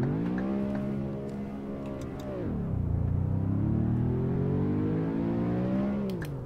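Modded BMW i8 sports car engine in Euro Truck Simulator 2, loud and steady, its tone dropping sharply near the middle and then climbing again through a long acceleration, with no talk.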